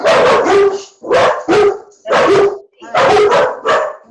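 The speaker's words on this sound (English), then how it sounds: "Dogs are agreeing." Several dogs bark in sharp, loud bursts, four clustered volleys with brief gaps between them, some yips and howl-like tones mixed in, close to the microphone and heard alone.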